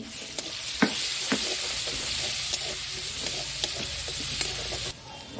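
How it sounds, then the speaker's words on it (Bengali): Garlic paste, cardamom and cinnamon sizzle steadily in hot oil, a close, continuous fry broken by sharp spatula clicks and stirring scrapes, with no voices. "তেল গরম হয়ে গেছে এলাচ দুটো আর একটু দারচিনি দিয়ে দেব আর কিছু দেব না ফোড়নে বেটে রাখা রসুনটা দিয়ে দিচ্ছি"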